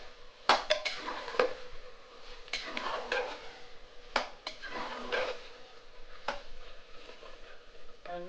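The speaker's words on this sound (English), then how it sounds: "we take the meat and we put the meat in there and give it a stir." Meat is stirred in a pan for a sweet and sour beef dish, a spoon scraping and clinking against the metal in irregular knocks over a soft cooking hiss, heard up close.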